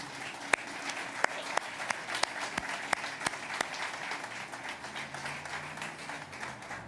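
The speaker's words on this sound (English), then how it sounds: "Please join me in giving them a round of applause." An audience applauds architects at a riverfront amphitheater project announcement, a steady wash of clapping with a few sharp, louder claps standing out, sustained for several seconds without talk.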